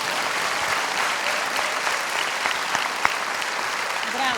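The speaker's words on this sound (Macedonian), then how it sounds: "ке ве замолам за билезен аплауз громогласен" Thunderous applause from an audience at a children's end-of-year school performance, dense continuous clapping filling the room at steady loudness with a few sharper claps standing out.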